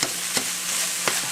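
Lean hamburger meat fries in a pan with a close, continuous sizzle. A spatula scrapes and stirs in two or three short, sharp strokes, with no voices.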